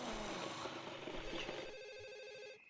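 A telephone rings in The Sims (Deluxe Edition) video game, a trilling electronic bell repeating in short bursts over soft background game music.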